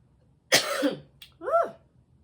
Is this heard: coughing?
yes